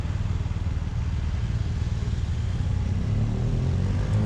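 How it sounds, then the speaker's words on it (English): Police motorbikes in a London street near Buckingham Palace idle and rumble close by in a continuous low engine drone; no whistle stands out clearly. "there's a few police on motorbikes blowing their whistles with their lights on, blocking the road"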